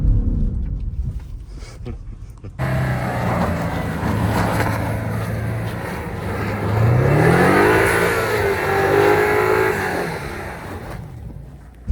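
A BMW XM revs hard while drifting, its engine swelling and sliding in pitch as the throttle rises and falls, heard from inside the car with voices talking over it.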